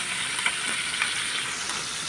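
Galunggong fish fries in a pan, giving a continuous close hiss of sizzling oil with a few small pops and spatters and no voices.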